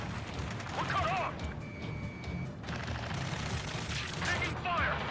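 Gunfire and explosions in the combat flight game Ace Combat 7, with continuous dense battle noise and rattling shots, while radio voices talk over it.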